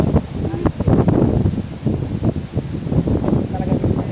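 Strong wind buffets a hilltop near a candle monument, roaring and rumbling against the microphone in gusts while people talk loudly over it.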